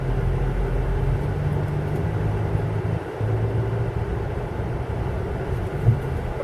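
A car pulling forward slowly during an outdoor wheel detailing and cleaning session, its engine a steady low rumble that dips briefly partway through and then carries on, with no talking.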